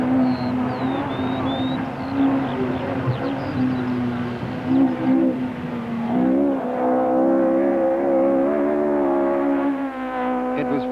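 Rally cars racing laps around the Landau racetrack at a 1972 Welsh rally, a steady drone of engines rising and falling in pitch as cars pass, moderately near, with a faint high squeal early on.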